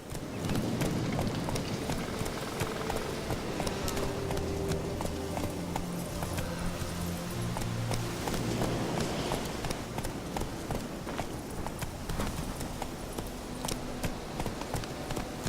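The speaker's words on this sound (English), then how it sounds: "double tap to get on the horse." Horse hooves galloping in The Witcher 3 video game, a steady fast clip-clop rhythm that runs throughout over a continuous bed of game background sound and music.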